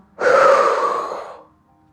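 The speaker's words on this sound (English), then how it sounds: "Exhale from the mouth." A single long, forceful breath pushed out through the mouth during a postpartum yoga practice, close and breathy, starting sharply and fading away over about a second and a half.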